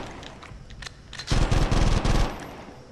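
Machine gun fire in the 24: The Game PlayStation 2 video game: a loud, sustained rattling burst of rapid shots lasting about a second, preceded by quieter scattered game noises.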